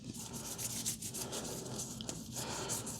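Oil being rubbed by hand into a rifle bolt carrier group: a steady, close, scratchy rubbing that continues without pause throughout.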